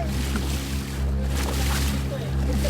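Sea waves slosh and slap against a small boat while island hopping, a steady low rumble of water and hull beneath excited voices of people on board.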